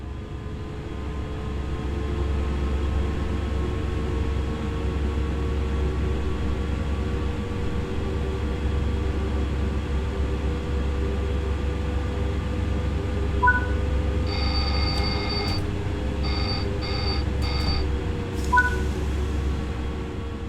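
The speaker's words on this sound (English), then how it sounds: "When the alarm sounds, apply braking until the train speed has reduced below the current restriction." Train Sim World 5 ATB overspeed alarm on the Zwolle–Groningen line in a Dutch train cab, a repeated electronic tone sounding in several short pulses over a steady low rumble of the running train.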